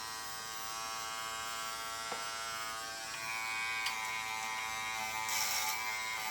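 An Andis Essential electric hair clipper hums in a steady close buzz as it cuts hair, with faint snips and shifts in tone as the blade moves over the head; no voices.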